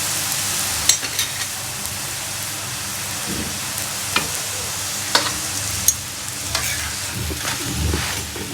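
Roll paratha frying on a greased griddle over low-medium heat, a steady close crackling sizzle throughout with occasional sharp ticks and scrapes.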